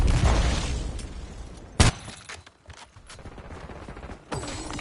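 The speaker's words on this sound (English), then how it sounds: "flashbang." A flashbang grenade going off in a Call of Duty Black Ops hardpoint match, a sharp loud bang near the middle amid scattered game gunfire and clatter.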